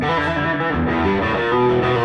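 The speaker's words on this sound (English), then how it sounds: "That's the sound of the 335" Gibson ES-335 style electric guitar played through distortion and effects, a loud, sustained run of notes with a thick, saturated tone and no talking.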